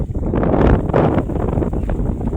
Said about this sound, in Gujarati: કેવો પવન છે